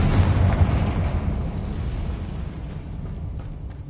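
A Confringo fire spell in the Hogwarts Legacy video game bursts in a single loud, deep explosion that rumbles and slowly fades out, with no talking.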